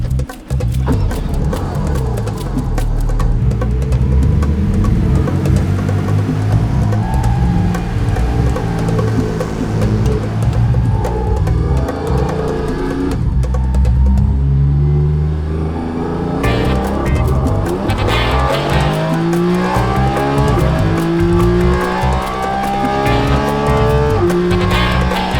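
A Porsche GT4 RS Clubsport on Michelin slick tyres laps the Nürburgring, its engine roaring loud and close throughout, climbing and falling through gear changes with brief tyre squeal.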